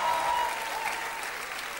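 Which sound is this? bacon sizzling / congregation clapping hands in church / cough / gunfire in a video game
congregation clapping hands in church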